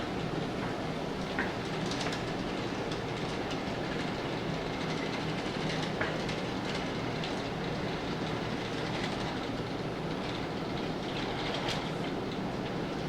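Model railroad train rolling steadily along track during an operations session, a continuous mechanical rumble with light clicking, moderately close and alone without talk.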